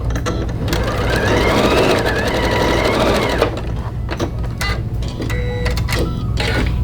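Sewing machine stitching short straight seams joining quilt pieces for a Flowering Snowball quilt, a loud, rapid mechanical whirring run followed by shorter stop-start bursts and clicks, close and alone without talking.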